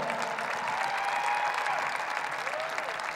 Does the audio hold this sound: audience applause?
yes